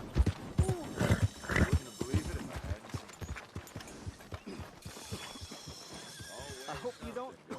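Horse in the Red Dead Redemption 2 video game whinnying and clip-clopping along under steady male speech, with a couple of louder neighs early on and hoofbeats running throughout.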